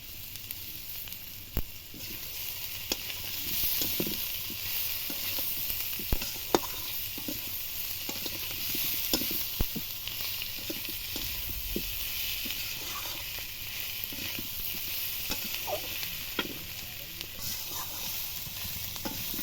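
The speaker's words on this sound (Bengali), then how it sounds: "কিছুক্ষণের জন্য ভালো করে কষে নিয়েছি" Pangas fish curry with potatoes sizzles steadily in a pan as it is sautéed, a constant hiss broken by occasional soft clicks and stirring scrapes, with no talk.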